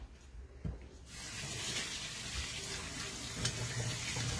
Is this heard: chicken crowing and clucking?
no